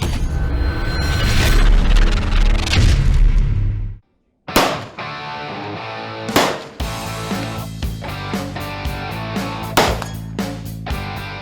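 Big bore pistol shots fired at metallic silhouette targets on an outdoor range at 50 to 200 metres: several loud, sharp reports with ringing decays spaced seconds apart, after an opening stretch of dense, busy noise.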